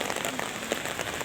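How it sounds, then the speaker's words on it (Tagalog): Heavy rainy-season downpour drums steadily on surfaces, a dense, continuous hiss of rain with no pauses and no voices. "Lakas ng ulan."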